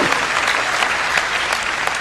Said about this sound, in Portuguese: Agora você aplaudiu?